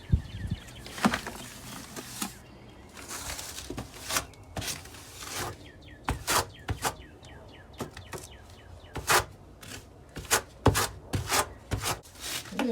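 Trowel scraping and spreading mortar around a Kerdi shower drain in a van build, with irregular close rubbing and scraping strokes and sharp clicks, alone without talk.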